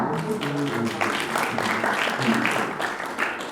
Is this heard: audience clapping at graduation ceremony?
yes